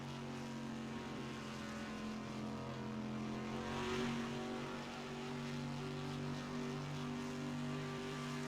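Race cars at Long Beach drone steadily with a rising, swelling engine tone as they accelerate for a restart, heard faintly and evenly from a distance with no talk.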